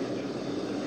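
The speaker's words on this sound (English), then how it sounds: "Is there a plane? Oh, there's a plane." Propeller airplane flying in a war video game, a steady, continuous engine drone heard close and fairly loud throughout, with no clear talk over it.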